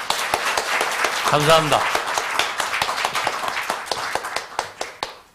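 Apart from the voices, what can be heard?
audience applause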